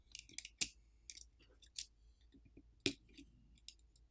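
Small Phillips screws being backed out and tiny flex cable connectors unclipped inside a compact Unihertz Jelly 2E 4G smartphone during a teardown, giving a scatter of sharp, close, quiet clicks and ticks with brief scraping between them and no talking.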